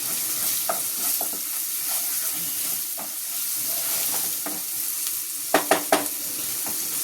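Kodal (goat intestine) fry sizzles in a pan on a stove kept on low flame, a steady close crackling hiss with scraping stirs and three quick spatula clacks near the end.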